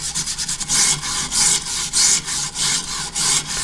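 Rust being scraped by hand off the blade of an old, badly rusted shovel being turned into a knife: steady, close, rhythmic rasping strokes, about a dozen in quick succession, with no talk.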